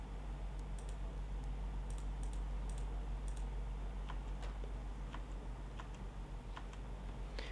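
A computer keyboard gives light, irregular key clicks, including a Shift+A shortcut, over a steady low electrical hum. The presses are close and quiet, with no speech.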